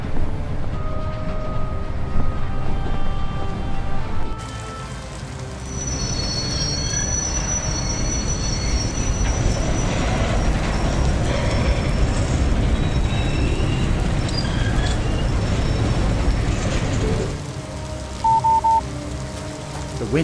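A train rolls along its tracks in the video game A Golden Wake, steady rumbling wheels and clatter with high squeals and a rushing wind-like wash, loud and continuous for the whole stretch.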